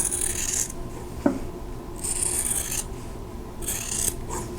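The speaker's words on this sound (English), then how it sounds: "now I'm going to trim this edge off, leaving a 1/4 inch seam allowance" Quilt block fabric for an hourglass block is trimmed along its edge to leave a quarter-inch seam allowance. Three long, close rasping cutting strokes are separated by brief pauses, with a small tap partway through and no voices.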